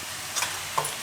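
Spices dropped into a hot pan of oil for a Gujarati bottle gourd curry, giving a brief soft sizzle with a few crisp pops and a faint stir, close and quiet, with no talking.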